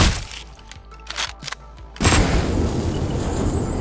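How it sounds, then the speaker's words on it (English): A single loud gunshot booms from the video game Hotline Miami 2, a sharp blast that gives way to a heavy, noisy roar, after scattered softer game sounds. "who the fuck shot me?"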